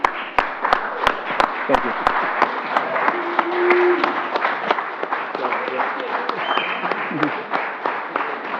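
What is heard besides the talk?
applause at a city council meeting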